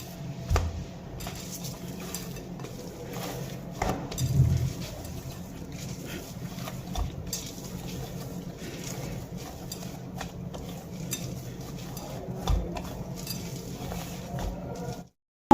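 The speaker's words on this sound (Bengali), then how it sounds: "এবার খুব ভালো করে আরও একবার আমি মেখে নেবো" Maida dough for aloo kachori is kneaded by hand, a steady soft squelching and thumping pressed out in an irregular rhythm with faint knocks against a bowl, close and low in level, ending abruptly.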